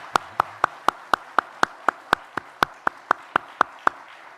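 A church congregation at a Sunday morning homecoming service claps in welcome, a crisp, evenly spaced beat of roughly four claps per second, about eighteen in all, heard alone without talk.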